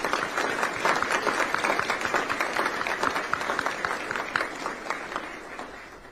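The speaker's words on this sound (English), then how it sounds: "a round of applause for Salty's folks" Dense, sustained audience applause at a military retirement ceremony, honoring the general's parents. Many hands clap steadily and evenly for about six seconds before easing off slightly at the end.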